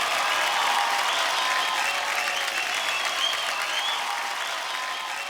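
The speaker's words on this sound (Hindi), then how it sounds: "जोरदार तालियां होनी चाहिए।" Sustained, dense applause from a studio audience at a Kapil Sharma Show taping, loud and steady throughout and tapering slightly at the end.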